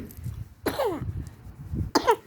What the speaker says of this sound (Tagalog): Ay, naubo nga.